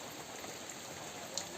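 Steady rain falls during a cloudy monsoon day outside a house, with a soft continuous hiss and a few individual drops, faint and without voices.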